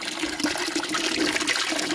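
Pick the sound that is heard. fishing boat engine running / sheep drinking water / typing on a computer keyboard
sheep drinking water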